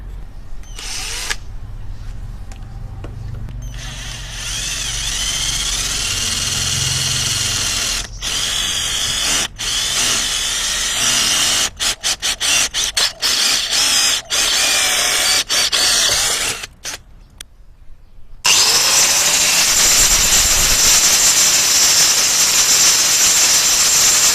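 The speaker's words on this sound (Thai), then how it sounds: "เราก็ใช้ดอกสว่านขนาด6มิลนะครับในการเจาะเข้าไป" A power drill with a 6 mm bit bores into metal for a DIY welding ground clamp, a loud, close, continuous whine with several brief stops and restarts, no talk.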